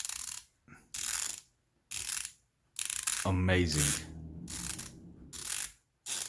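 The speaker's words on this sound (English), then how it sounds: "There's a clear fault with the actual bezel mechanism" SteelDive SD1952 dive watch, a Blancpain Fifty Fathoms homage, its flat ceramic fine-tooth sawtooth bezel turned with a faulty mechanism: several loud bursts of rapid ratcheting clicks, separated by short pauses, with a voice speaking briefly midway.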